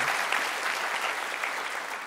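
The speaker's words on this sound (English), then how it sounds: "Another round of applause for Rachel, who you saw earlier." An audience at a live opinion event claps for editor Rachel Dry, a dense, even round of applause from a full room with no pause in the noise.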